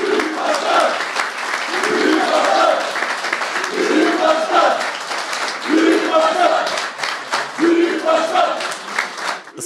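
A hall crowd claps and chants in rhythmic bursts after a mayoral candidate's statement in Isparta, loud repeated cheering phrases rising over continuous applause.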